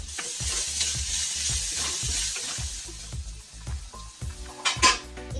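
Green chillies, ginger and garlic sauté in a pan for a Kerala papaya curry, giving a steady soft sizzle broken by a regular rhythm of spoon strokes scraping the pan, with a few louder clatters near the end.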